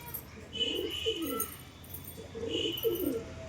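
Domestic pigeons feeding give two drawn-out, throaty cooing phrases, close by and moderately soft, with a faint higher chirp between them.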